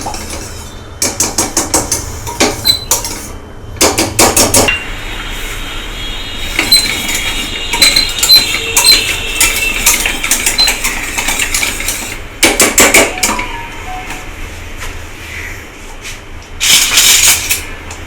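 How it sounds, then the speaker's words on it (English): Béchamel sauce is stirred in a saucepan with loud metallic clinks and scrapes coming in bursts, separated by quieter gaps, close and clear. "Just keep stirring it continuously after 10 to 15 seconds so that it can't get stick to the surface of saucepan"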